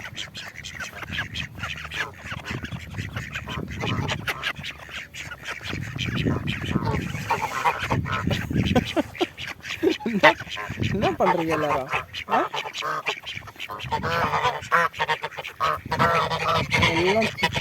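Ducks quack and honk on a farm roadside during a bike trip through France, repeated calls close by mixed with steady talking and outdoor noise throughout.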